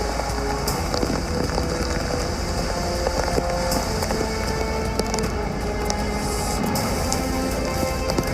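Heavy monsoon rain pours down in a dense, continuous patter on surfaces, with scattered sharper drop hits and some wind buffeting, and no voices.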